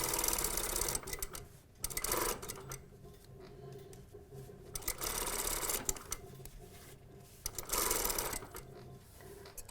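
A sewing machine stitches a seam in fast whirring runs, pausing and reversing for back tacks, close and fairly quiet, with no talking.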